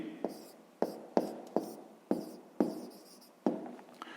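Pen writing a math answer on paper, a quiet series of about eight short scratchy strokes at uneven intervals, each fading quickly, close and alone.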